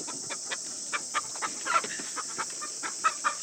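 Roosters and hens cluck in a crate, giving a steady run of short, close clucks over a constant background hiss.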